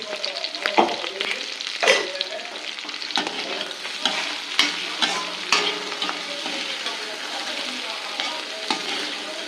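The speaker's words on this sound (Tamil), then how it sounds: "கொஞ்சம் நெய் விட்டுட்டா வாசனையாக இருக்கும், அதனால் நெய் விட்டுக்கிறேன்" Ghee sizzles in a hot pan while food is stirred, a steady close frying hiss broken by scraping and clicking stirs throughout.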